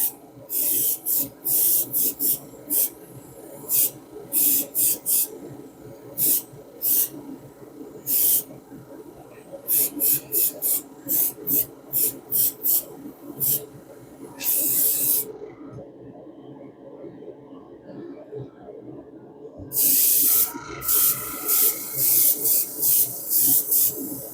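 Short hissing bursts of spray paint apply a light coat to a 1/64 scale John Deere farm toy tractor, close and loud, in quick repeated puffs with a few longer sprays and brief pauses.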